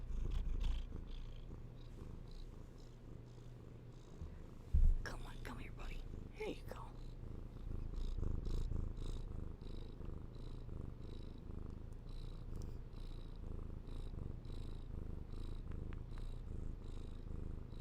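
A happy cat purrs softly and steadily while being held indoors, a low continuous rumble running under a person's quiet coaxing talk.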